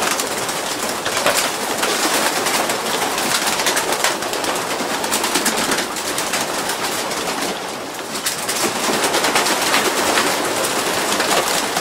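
Many pigeons at a breeding loft coo and flutter together in a dense, continuous chorus, close by, with busy wing rustles and clatter throughout.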